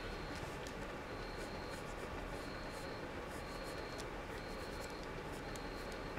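Watercolour pencils scratching out small grassy strokes on paper in a bird journal, a continuous close scratchy texture with faint periodic tones in the background and no talking.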